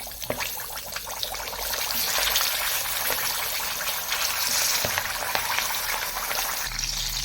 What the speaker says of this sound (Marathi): ग्रेव्हीसाठी मी आज तेलामध्ये आता असे कांदे सोडून घेते